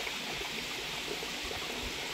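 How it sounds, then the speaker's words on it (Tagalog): Spring water stream running steadily near a mountain cave, a continuous broadband rush and trickle heard close and alone, with no voices. "Tubig bukal."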